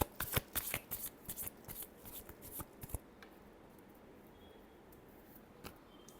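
Tarot cards being shuffled by hand, a quick run of crisp riffling snaps up close for about three seconds, then quiet room tone with one faint tap; no talk.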